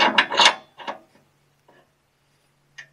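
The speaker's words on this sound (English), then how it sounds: "Next step is flip this ball over. So we're gonna pull the pin on it." Pin pulled from a fifth wheel hitch ball mount, a few quick metallic scrapes and rattles up front, then near silence and a faint click at the end.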